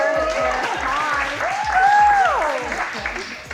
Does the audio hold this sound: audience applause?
yes